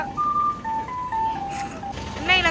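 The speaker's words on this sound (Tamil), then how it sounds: "இதான் ஸ்ரீலங்கா ஐஸ்கிரீம் வண்டி" A Sri Lankan ice cream van plays its bright, tinkling electronic jingle as a simple looping melody nearby, while a voice talks over the end of the tune.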